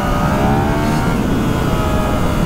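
A 2019 Yamaha MT-09 SP motorcycle with a torque-rich triple engine pulls hard under acceleration, its loud, close exhaust note rising steadily and without a break.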